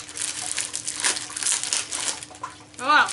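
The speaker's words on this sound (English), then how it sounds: "I'm gonna cut the tape on this." A knife slicing through packing tape on a cardboard costume package gives a sustained crinkling, tearing rasp, with a sharper zipping rip right at the end.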